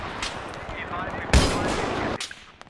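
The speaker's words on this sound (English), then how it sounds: "Man, I'm being sniped from all sides." Battlefield 3 sniper gunfire: a sharp, loud shot cracks mid-clip and rings out over a busy battlefield backdrop, with a few faint distant reports around it.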